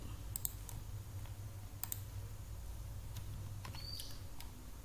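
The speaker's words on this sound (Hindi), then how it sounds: "जब मैं इसके ऊपर क्लिक कर रहा हूं" Sparse computer mouse clicks, a few sharp faint ticks spread over several seconds, over a steady low hum with no talk.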